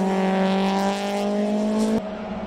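Race cars at Autopolis during a Super Taikyu endurance race, including Toyota 86 and Honda S2000 entries, drone loudly and steadily at high engine revs with a strong tonal whine, then the pitch drops abruptly as one passes.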